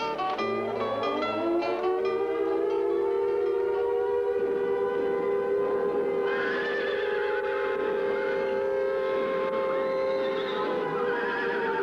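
A horse neighs in a long, loud whinny that rises and wavers for several seconds, close and dominant, with a second shrill call overlapping near the end and no talking.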